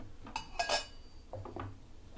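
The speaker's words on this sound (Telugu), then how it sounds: "మూత పెట్టేసి" In a kitchen, a metal lid clinks against a cooking pot in a few quick, faint taps and rattles as it is set in place.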